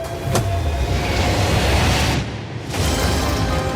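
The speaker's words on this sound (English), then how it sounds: "Now, not only is this the fastest car in the world, oh my gosh, it accelerates so fast." A very fast car, billed as the fastest in the world and able to drive upside down, roars hard and continuously up close, a loud steady rushing drone with a short dip partway through.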